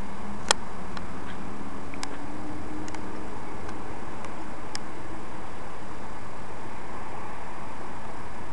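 Slow, sparse ticks from the Waukesha clock tower in downtown Waukesha, Wisconsin, heard outdoors from a distance, faint against steady background ambience with no talk.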